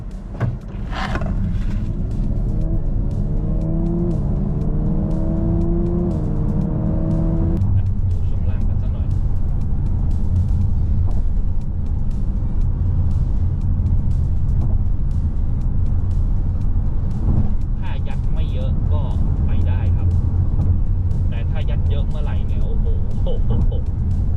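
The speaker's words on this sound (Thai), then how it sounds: "launch control ครับ กดเบรก เต็มแล้วกดคันเร่ง" A GWM ORA 07 Performance electric car launches hard from a standstill using launch control, a rising electric motor whine climbing in pitch for several seconds over steady road and cabin rumble, with a voice talking throughout.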